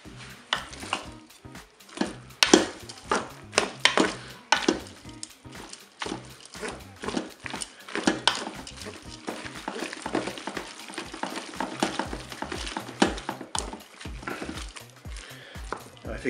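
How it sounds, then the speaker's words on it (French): Spaghetti with chicken and olives being stirred in a Cookeo multicooker pot, with a spoon scraping and knocking against the pot in an irregular rhythm under a soft sizzle, close and fairly loud. "Donc là, je vais bien mélanger."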